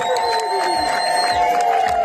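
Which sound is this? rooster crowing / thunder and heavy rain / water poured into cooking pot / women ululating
women ululating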